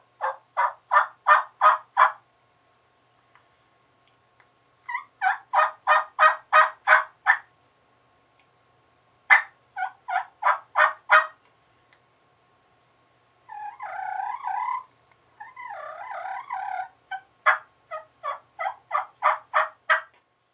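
A turkey call mimics a hen's soft purrs and putts, in rapid rhythmic bursts separated by short pauses, clear and close.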